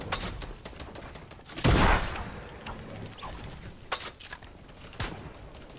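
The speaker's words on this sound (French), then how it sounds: "Putain, je tire dans le vide," Fortnite gunfire: a loud burst of shots near the middle, with scattered sharper single shots before and after over a busy game background.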